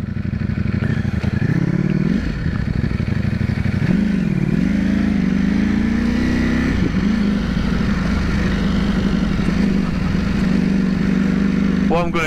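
A 2021 Ducati Panigale V4S rides a long run near the seaside town of Skegness, its loud engine droning steadily throughout, with pitch rising and dipping as it shifts and accelerates, with wind rush over it.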